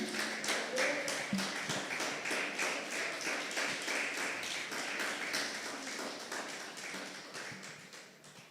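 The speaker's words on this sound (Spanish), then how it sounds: "Démosle un fuerte aplauso a nuestro Padre" A church congregation claps for the pastor in steady, rhythmic unison beats that continue evenly throughout, fairly distant and moderately loud.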